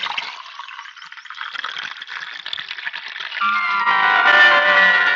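Water is poured or splashed into a car's radiator under the open bonnet as a steady liquid rush, which turns into a fuller filling sound partway through.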